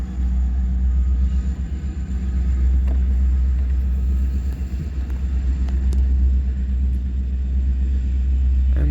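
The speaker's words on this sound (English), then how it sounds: "Westbound manifest, heading to Bailey Yard." Westbound manifest freight train on a former CNW main line near Fremont, Nebraska, passing with flat cars carrying tractors; a loud, continuous low rumble with faint squeals and clanks throughout.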